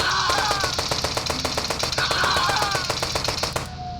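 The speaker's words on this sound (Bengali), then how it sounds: "দেখি গুলি মারি কিছু বলে নাকি।" Rapid machine-gun fire in the video game Indian Bike Driving 3D, a loud close burst of evenly spaced shots rattling for several seconds before cutting off abruptly.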